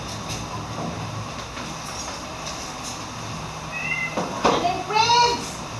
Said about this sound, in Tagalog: Ang aking mga babies na pusa.